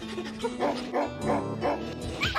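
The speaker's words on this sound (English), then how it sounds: "Oh, look, Mr. Acme sent his dogs to meet us." Dogs bark in the arcade game The Outfoxies, giving a quick run of several sharp yaps close together over game music and effects.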